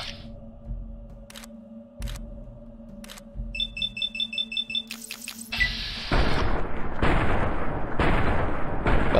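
Gunfire in Fallout New Vegas: a few spaced, sharp shots, then a quick series of clicks, and finally a loud, sustained stretch of heavy blasts, with no one talking.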